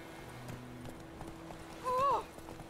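Roach, a horse in the video game Witcher 3, gallops with steady clip-clopping hooves under low background game music, and a short whinny rises near the end.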